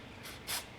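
Two short, close hissing bursts of aerosol spray cleaner hitting Toro lawnmower carburetor parts to strip gummy resin left by decomposed gasoline, the second burst louder and longer.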